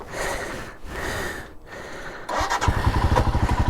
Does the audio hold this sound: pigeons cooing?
no